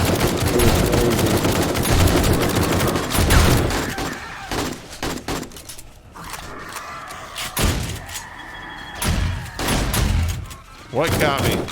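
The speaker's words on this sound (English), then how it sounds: "Oh, the turret shot me." An automatic turret fires in the survival game 7 Days to Die: dense, loud bursts of rapid gunfire, heaviest at the start, then breaking into choppier volleys and thuds, with people talking over it.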